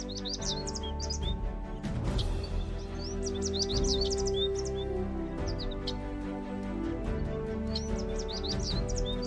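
Macaws and other birds in the Amazon rainforest give repeated high chirps and calls over a dense, steady forest background, with scattered calls throughout.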